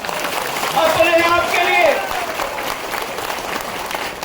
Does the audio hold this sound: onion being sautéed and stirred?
no